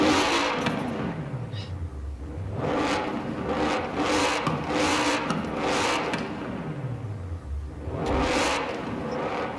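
In the Forza Horizon 4 racing game, a Mercedes-AMG GT engine swells and falls through repeated acceleration runs with gear changes, a deep rumble that rises and drops several times under mid-distance road noise.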